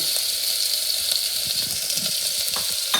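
Chopped onion sizzles steadily in a generous pool of olive oil in a frying pan, a close, continuous crackling hiss with small pops and no talking.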